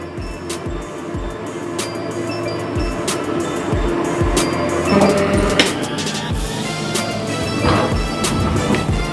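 An electric mixer beats cake batter with a steady, close whirring motor hum and a fast rhythmic clicking, running without pause from start to finish.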